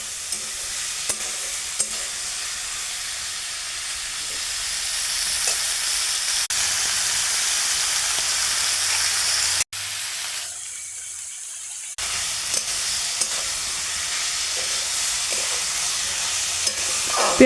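Onion stalks and potatoes fry in a pan with salt and turmeric, a continuous close sizzle with occasional stirring clicks. The sizzle drops away briefly partway through, then resumes just as strong.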